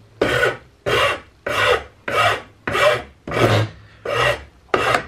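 A rough flat file rasps cured epoxy down on a rifle buttplate, eight firm, evenly spaced strokes close up, each a gritty scraping sweep with a short pause between, with no voices.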